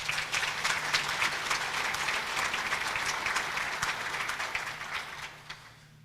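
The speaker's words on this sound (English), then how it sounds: "please give them a round of applause." An audience at a city's State of the City address breaks into sustained applause for local businesses, dense clapping from a hall crowd that holds steady and then thins out toward the end.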